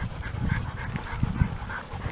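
Dogs leaving a dog park pant close up with soft snuffles and occasional small thumps, quiet and continuous with no talk.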